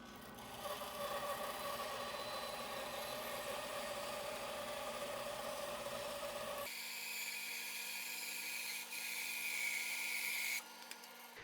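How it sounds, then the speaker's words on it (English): A bandsaw runs and cuts through a block of spalted wood, a steady motor whine with a buzzing blade tone that shifts abruptly midway as the cut changes, heard alone at moderate level without talk. "So let's go over to the bandsaw."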